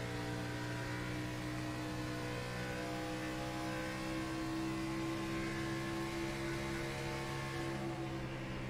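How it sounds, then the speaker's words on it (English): A steady race car engine drone in a racing video game, with sustained tonal hum and slight throttle swells, held at an even level without pause or speech. "I love listening to the work of these drivers working that throttle in the corners."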